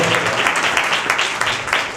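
A congregation at a Christian revival meeting claps together in a steady rhythm, the hand claps dense and even as a lively burst of applause that fills the room.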